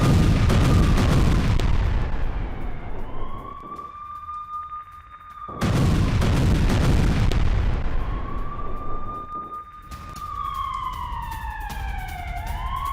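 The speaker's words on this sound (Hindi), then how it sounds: "ये देखिए आप, सुनिए आप, कैसे बड़ा धमाका होता है और एक आग का बहुत बड़ा गोला" An Iranian ballistic missile strike on Tel Aviv: a loud, rumbling blast roars and fades, followed by a second heavy boom, with rising and falling wailing tones sweeping over the noise.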